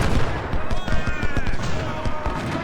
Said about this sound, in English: Artillery fire into Kershaw.